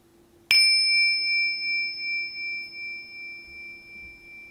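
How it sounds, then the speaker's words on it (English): A single meditation bell is struck once, ringing clearly with a bright sustained tone that slowly pulses and fades toward silence over several seconds, alone in a quiet room. "Just noticing the sound of that bell, noticing how it trails off into silence."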